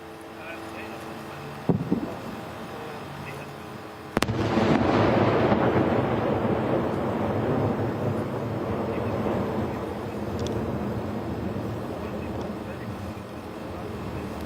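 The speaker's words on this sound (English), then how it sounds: "you were listening there to the heavy artillery fire that is being captured" Heavy artillery fires from northern Israel into southern Lebanon: a distant boom, then a louder blast that rolls into a long, rumbling echo fading slowly, with a voice talking over parts of it.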